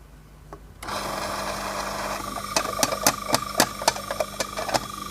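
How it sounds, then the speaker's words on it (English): A Eureka Mignon coffee grinder switches on after a near-silent moment and runs with a steady motor whine, overlaid by sharp rattling clicks and bursts as the beans are ground, loud and close with no talking. "I'm just going to activate the grinder."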